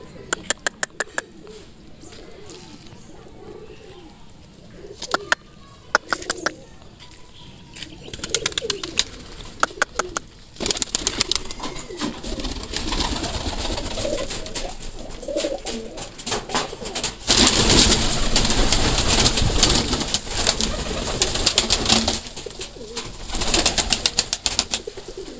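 Pigeons coo steadily close by, with repeated bursts of wing flapping and sharp clicks, growing louder and denser toward the end.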